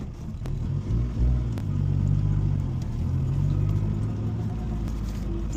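A stock-ish 2007 Mazdaspeed 3 driving, with a steady low engine rumble and road drone that swells slightly as it moves off, with no voices.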